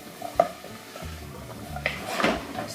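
A spoon stirs onion, garlic and carrot in an oiled pan, giving a few scattered scrapes and clinks against the pan over a faint low sizzle, with no voices.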